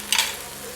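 Chicken being stirred with tikka masala in a hot pan, a single brief scrape and sizzle burst up close that quickly fades into a soft frying hiss.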